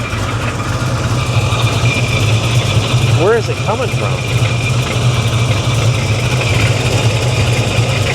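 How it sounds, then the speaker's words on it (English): A hot rod engine idles steadily at close range with a loud, persistent rattle suspected from a failing transmission, droning under a man's brief question midway. "It's rattling like crazy."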